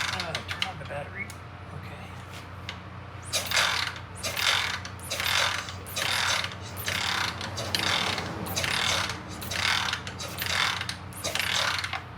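A BSA ignition rotor assembly spins on test equipment with a battery switched on, giving a steady close mechanical ratcheting whir. Regular bursts of sharp clicking ride over a low constant hum, and some talk is heard.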